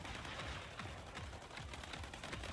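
Rapid autocannon fire in a video game rattles in dense, fast bursts throughout, loud and continuous with sharp repeated shots over a heavy, noisy background.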